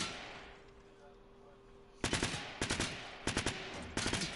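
Gun firing in Fortnite: quick bursts of rapid, sharp shots, loud and close, in several short clusters after a quiet start.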